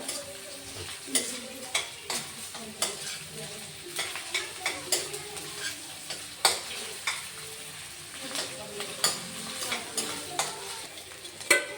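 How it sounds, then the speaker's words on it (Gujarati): Ginger paste fries in a pan with garlic for pasta while a spoon stirs it in repeated close scrapes and taps over a steady, soft sizzle. "ત્યારબાદ આદુની પેસ્ટ, હલાવી દેશો"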